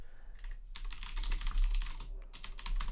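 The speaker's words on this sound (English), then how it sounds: "I'm just gonna keep typing." Keys clatter on a computer keyboard in quick irregular bursts, close and fairly loud, with no voices over the typing.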